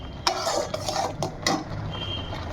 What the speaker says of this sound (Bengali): কাজুটা দিয়ে দিলাম, দিয়ে এটাকে ভালো করে নাড়তে হবে।